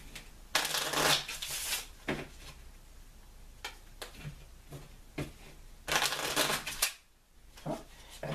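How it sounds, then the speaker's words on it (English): Tarot cards are shuffled by hand in several bursts of crisp riffling and flicking, close up, with brief quieter pauses between the shuffles. "as I shuffle the cards"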